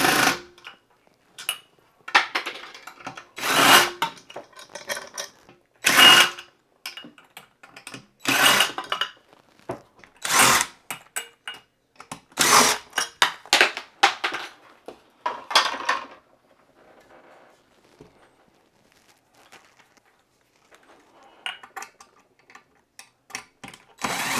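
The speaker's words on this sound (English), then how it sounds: "And now you can start taking your fan blades off." A Phillips screwdriver unscrews ceiling fan blades, producing close, intermittent metallic clinks and rattles in short bursts separated by quiet pauses, then fainter handling near the end.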